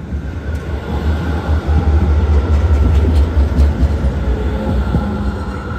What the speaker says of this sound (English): There's a lot of those above ground trams. They go pretty fast.